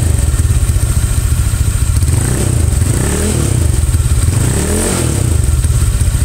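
Honda Vario 125 scooter engine, old model with stroke-up and bore-up modifications and an 8-hole CB injector, idling loud and close with a rough, pulsing rumble and a couple of brief revs.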